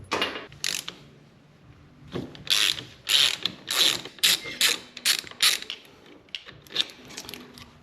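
A ratchet wrench backs out the two bolts holding the brake caliper on a BMW F650GS Dakar motorcycle, with close, loud bursts of rapid clicking separated by short pauses, no talk.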